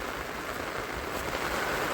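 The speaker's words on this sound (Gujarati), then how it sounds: "હવે બાકી વરસાદ આવ્યો" Rain falling steadily at a campsite, a dense, even broadband hiss of drops close by with no distinct individual impacts and no voices.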